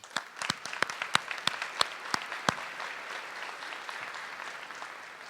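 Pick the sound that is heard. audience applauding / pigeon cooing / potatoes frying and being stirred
audience applauding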